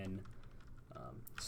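Typing a terminal command on a computer keyboard during a software install, a quick run of close key clicks with a faint voice underneath at moments.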